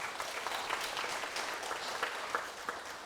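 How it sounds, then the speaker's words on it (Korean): A church congregation claps together to celebrate a family's newborn daughter during a worship service, a steady, fairly quiet wash of applause lasting a few seconds with no voices over it. "우리 가정에 주신 귀한 등려인데 축하의 박수 드리겠습니다."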